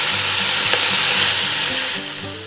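Bacon frying in a Dutch oven at a camp, a loud dense sizzle and crackle close by, continuous and steady before easing slightly toward the end.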